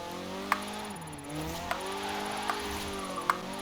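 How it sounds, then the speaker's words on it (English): Car drifting in Forza Horizon 4 during a cheap-car drift-off, a revving engine rising and falling with gear shifts and faint tire squeal, a few sharp clicks, moderately quiet. "Oh, we've got a good drift going here."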